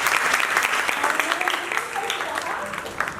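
Lively applause for a participant named Neha fills a room at a workplace mental health symposium run by a psychology department, starting loud and gradually thinning, with a voice faintly audible underneath.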